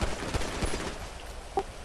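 Faint bursts of rapid gunfire from GTA 5 crackle in the distance, a few sharp shots over a low background hum.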